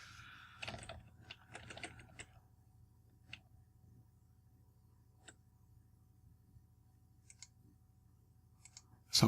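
Clattering keystrokes on a computer keyboard, typing keyboard shortcuts during a GeoGuessr session: a quick burst of clicks early on, then sparse single taps over a steady low hum, with a loud thump at the end.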